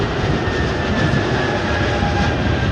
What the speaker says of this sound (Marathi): इकडे विमानं तुम्हाला टेक ऑफ आणि लँडिंग करताना दिसतात